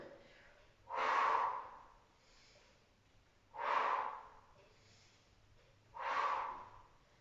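Three slow, evenly spaced breaths with a resistance band during a postnatal arm exercise, each a soft, close whoosh of air separated by quiet pauses.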